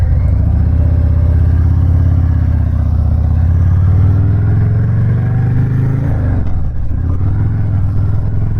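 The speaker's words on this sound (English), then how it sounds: "That idle out of that Bassani Ripper, out of that 128 twin cam" A Harley-Davidson Sport Glide with a 128 twin cam and Bassani Ripper exhaust idles close up, a loud, deep, throbbing rumble that dips briefly before settling back to a steady lope.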